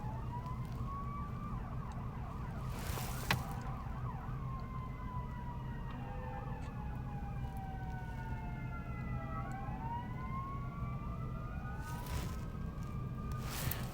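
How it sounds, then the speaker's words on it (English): A fire truck siren wails and whoops as it passes, rising and falling over a steady low rumble of road traffic, moderately distant, with no talk. "Wait for this fire truck to pass, man."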